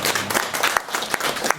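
Brief applause from a concert audience at a hanok music event, with broadband clapping and a few sharp individual claps standing out, fairly close and steady for under two seconds.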